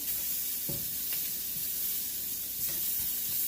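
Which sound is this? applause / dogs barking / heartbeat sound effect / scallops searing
scallops searing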